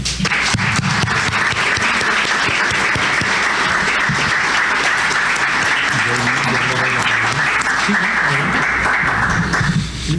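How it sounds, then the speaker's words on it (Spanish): An audience at an academic lecture gives a speaker warm, sustained applause, dense clapping at close range with some voices mixed in until it stops. "les pido que recibamos con un caluroso aplauso"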